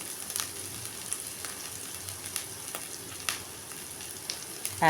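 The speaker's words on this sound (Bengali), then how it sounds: "এটা দেখো ভাজা ভাজা আমার হয়ে যাচ্ছে" Gentle, continuous sizzling of spices frying in a pan, with occasional light clicks of stirring; fairly quiet and close, without speech.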